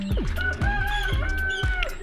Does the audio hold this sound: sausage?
no